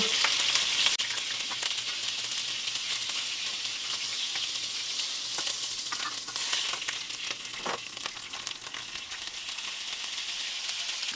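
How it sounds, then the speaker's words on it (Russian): Meatballs frying in oil in a pan make a loud, constant hissing sizzle, with occasional clinks and stirring sounds breaking through now and then. "Я их просто обжариваю."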